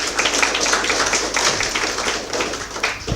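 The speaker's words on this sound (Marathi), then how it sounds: "तर नक्कीच त्यांच्यासाठी जोरदार टाळ्या" Audience applause at an award ceremony in Nagpur: dense, steady clapping from many hands, moderately loud and close, holding through the whole moment with no voices.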